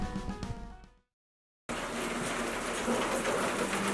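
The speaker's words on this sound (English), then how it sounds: "A little bit of rain." Light rain falling steadily in Costa Rica, a continuous broadband hiss that starts after a brief silence and holds at an even level, preceded by a faint tonal, birdlike or rail-like sound.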